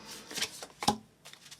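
A deck of tarot cards gets a quick shuffle, a few soft riffling and slapping bursts close by, fairly quiet, with no talk.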